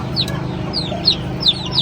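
Chickens cluck close by in a farmyard pen, about five short, sharp calls in an uneven rhythm over a low background murmur.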